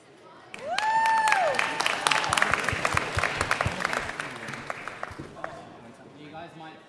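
Loud applause and cheering from a large crowd at a Sumobots robot competition final, sustained for several seconds, with whistles near the start and clapping tapering off toward the end.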